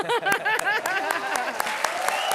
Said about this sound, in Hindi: ताली बजाओ ना फिर।